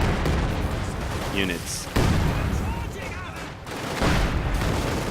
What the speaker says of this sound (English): This barrage might be very successful.